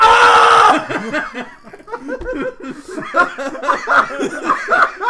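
A person lets out a short, loud, shrill scream as an imitation, then laughter and chatter from several people follow.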